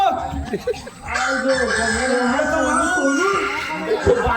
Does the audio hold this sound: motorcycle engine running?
no